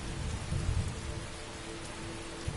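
Steady rain pours with a low rumble of thunder during a stormy weather spell in the video game Skyrim, continuous and dense with no voices.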